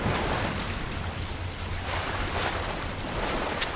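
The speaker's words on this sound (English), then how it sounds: "Water leaking in." Water leaking into a flooded corridor in the video game BioShock, a continuous rushing, surf-like wash of water that stays loud and even throughout, with no one talking.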